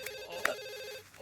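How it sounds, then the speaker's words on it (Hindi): A telephone rings once in a short, bright burst indoors, alone with no talk. "फोन उठाओ प्लीज, उठाओ।"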